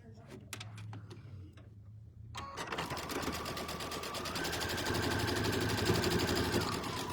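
A sewing machine stitching a quilt block seam down the center starts after a short pause and runs steadily with a rapid mechanical needle rhythm and motor whir that rises slightly, close and clear.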